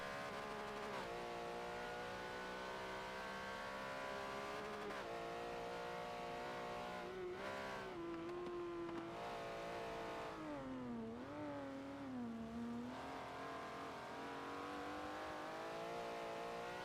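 Race cars in Forza lapping Sonoma Raceway, engines droning and revving continuously with rising and falling pitch as cars shift and brake, several machines close together, loud and steady with no talk.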